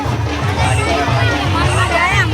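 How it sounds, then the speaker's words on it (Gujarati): Dense crowd hubbub at a busy temple fair (mela) at Karakthal, with many overlapping voices forming a continuous, close babble throughout. "મેળો તો ભીડ તો તમે જોઈ શકો કેટલી બધી ભીડ।"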